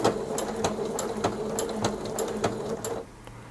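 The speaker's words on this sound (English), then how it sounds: "But now if we sew, when I tap the reverse button" A Pfaff Passport sewing machine stitches and then backstitches with the reverse button, giving a close, rapid, rhythmic whir of needle strokes that stops after about three seconds.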